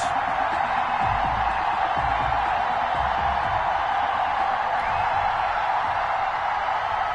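A stadium crowd in a PS4 NFL football video game gives off a steady, loud roar of cheering and murmuring for the whole stretch, with a commentator-style voice faintly underneath.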